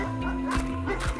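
A dog barks twice in quick succession in the Red Lake video game, short sharp woofs close by over a steady low game hum.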